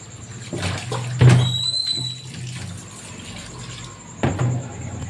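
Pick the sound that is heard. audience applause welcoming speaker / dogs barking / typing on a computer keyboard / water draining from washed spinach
water draining from washed spinach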